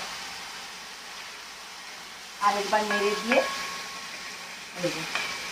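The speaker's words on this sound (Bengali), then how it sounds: "এবার নেড়ে দেবো আরেকবার" Hilsa fish curry with salt and sugar is stirred in a pan, a low sizzle punctuated by a short burst of metallic scraping and clinking midway and another brief scrape near the end.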